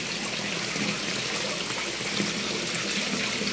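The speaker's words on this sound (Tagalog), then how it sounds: "O yan po, nakapag-drain na po ng tubig." Water drains steadily from a concrete tilapia pond, a continuous close trickling and gushing wash that holds even and unbroken throughout.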